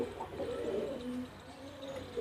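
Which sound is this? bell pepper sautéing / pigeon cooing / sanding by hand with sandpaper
pigeon cooing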